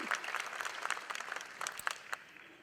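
Warm crowd applause at a chamber of commerce banquet, a steady patter of many hands with a few sharper claps, continuing briefly at moderate loudness.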